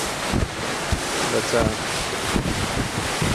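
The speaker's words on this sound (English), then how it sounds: "Breeze blowing in your face." Sea breeze and waves at night aboard a ship at sea, gusty wind buffeting the microphone over a constant wash of water, with a voice speaking briefly.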